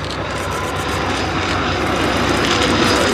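A World War I BE-2E biplane flies over at the Duxford airshow, its engine droning loud and steady with a throbbing propeller pulse throughout.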